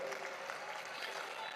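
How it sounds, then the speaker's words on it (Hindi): Crowd applause at a large political rally in Delhi for Prime Minister Modi, a dense steady wash of clapping from many hands with a faint voice mixed in. "मोदी जी के लिए, उस गारंटी के लिए तालियां बजाकर उनका स्वागत करने की जरूरत है"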